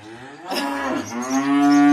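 A cow gives a loud, drawn-out moo close by, rising into a sustained bellow.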